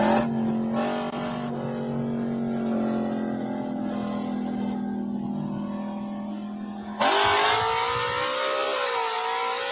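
A Gen 3 race car with a 10R80 automatic transmission at full throttle down the strip, a loud sustained engine drone that climbs steadily, then a sharp jump in pitch as it shifts, heard alone without talk.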